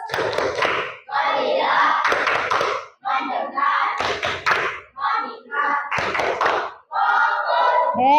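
In an Indonesian classroom, students do a rhythmic focus-clapping routine: bursts of clapping in set patterns alternate with children's voices chanting together, loud and close.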